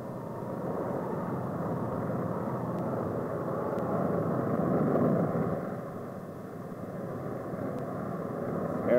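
A steady, rumbling aircraft engine drones continuously, swelling slightly louder midway before easing off, with no voices present.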